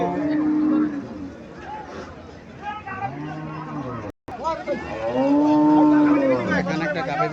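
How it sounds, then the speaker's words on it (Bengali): A dairy cow at a cattle market moos twice, a long low call near the start and a louder, drawn-out one later, while people talk and a crowd murmurs around it. "এখানে একটা গাভী দেখা যাইতেছে"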